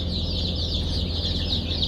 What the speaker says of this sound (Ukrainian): Тепер Мені треба оці курчаточка, оці курчатка і оці курчатка переселити у ці клітки